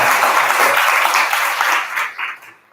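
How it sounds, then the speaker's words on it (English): Audience applause at a university BFA thesis reading, a full round of clapping that holds steady and then tapers off and fades out toward the end. "can we get another round of applause for Jacob?"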